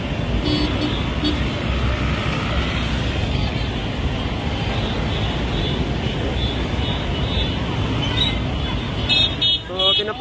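Motorcycles and cars in a political caravan along EDSA, a continuous close rumble of engines and traffic with scattered horn toots, rising into a burst of honking near the end, while a voice talks over it.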